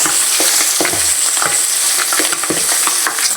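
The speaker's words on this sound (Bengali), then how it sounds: "মাছ কিন্তু ভাজা হয়ে গেছে, কারণ আমি তুলে নেবো।" Pangas fish pieces sizzle loudly as they fry in hot oil in a pan, with a steady crackle and occasional stirring or scraping sounds, close up and with no talking.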